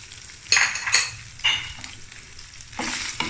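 Chicken sears in olive oil in a pan for paella, a soft steady sizzle broken by several bright clinks and scrapes of a utensil stirring against the metal.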